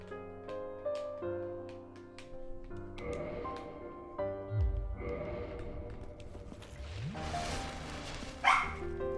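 Dog barking in Dark Souls Remastered, a few short barks and yips set against tonal music and game sounds.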